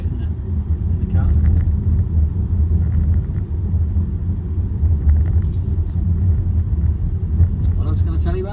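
Inside a Volvo EX30 Twin Motor Performance electric car while driving, a low steady road rumble fills the cabin beneath someone talking throughout.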